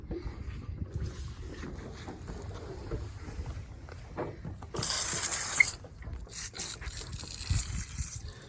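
Water from a hose spraying over oyster cages at an oyster farm, a steady rushing burst in the middle with patchy splashing and dripping before and after, fairly close.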